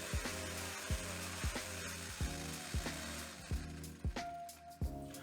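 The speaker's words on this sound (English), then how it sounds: "Then I applied the sticker and started drilling." A power drill bores screw holes for mounting a wireless security camera, a steady mechanical drone with a regular ratcheting click repeating about every half second, close and fairly quiet.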